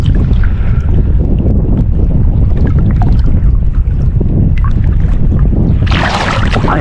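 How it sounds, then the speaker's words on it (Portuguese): Strong, steady wind roars and buffets the microphone throughout, with a brighter rushing gust near the end. "Ventando bem, pessoal."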